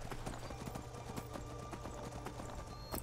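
Horse hooves clip-clopping in the Skyrim video game, a steady run of close, fairly loud hoofbeats under a constant low rumble of game ambience, with no talk.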